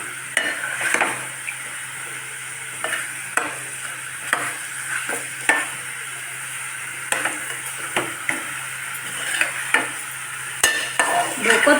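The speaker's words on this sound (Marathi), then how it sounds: "व्यवस्थित परतून घ्यायचे आहे पीस पण आपल्याला." Fish pieces stir-fried in curry masala sizzle steadily in a pan while a spoon scrapes and knocks against it in irregular strokes, close and clear, with no talking.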